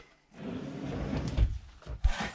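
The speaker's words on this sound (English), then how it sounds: "Even has some drawers hidden inside there." A drawer slides open or shut inside a Cougar 364BH fifth wheel camper, two or three short knocks and scrapes close by over a quiet room, with no talk.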